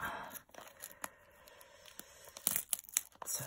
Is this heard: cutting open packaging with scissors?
yes